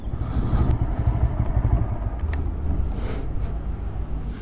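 A TVS Raider 125 motorcycle's exhaust note is heard as a steady low, throbbing engine rumble at moderate volume, with a few light clatters over it.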